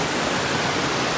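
Waterfall on a trip near Marrakech, a steady, close rush of falling water heard as an even broadband roar for about a second, with no talking.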